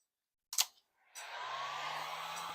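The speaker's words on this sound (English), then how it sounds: "So we just get the heat gun," Heat gun blowing hot air over vinyl graphics on a Cowboys football helmet: a brief click-like burst, a pause, then a steady, fairly quiet whooshing airflow with a low motor hum that continues to the end.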